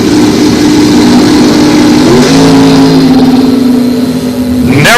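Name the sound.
Firebird drag race car launching in a wheelie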